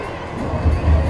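Cricket crowd cheering a boundary hit by Kalairasan for the Chennai Rhinos against the Bengal Tigers, a dense stadium roar that swells louder toward the end of the moment.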